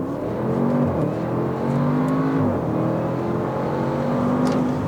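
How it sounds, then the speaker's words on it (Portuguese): An Audi RS6 Avant wagon with 600 cv pulls hard from a standstill under launch control, its engine note climbing loudly and steadily with a couple of quick upshifts breaking the rising drone, heard close and alone. "eu vou fazer aqui a nossa largadinha estolada para ver como é que o carro se comporta"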